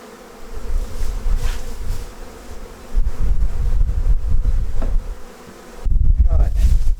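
Bees buzz loudly and continuously close by at an opened hive lightly smoked, with gusts of intensity swelling and fading; no one speaks.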